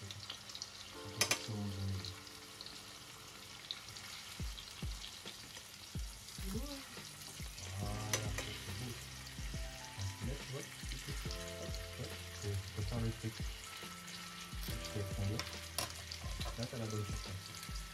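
A pepper-marinated steak sears in a pan with a quiet sizzle beneath frequent clattering and handling noises, while people talk nearby.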